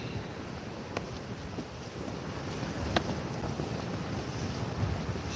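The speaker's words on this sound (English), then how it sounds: "Still pretty windy here as well, and water's pretty rough." Wind buffets the microphone on a beach at Southbourne while rough sea water churns and breaks nearby, a constant blustery roar with occasional sharper gusts and no voices.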